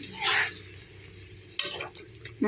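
Chicken coated with salt, chilli powder and turmeric frying in ghee for biryani, a faint low sizzle with a few stirring scrapes and light utensil knocks, close but quiet.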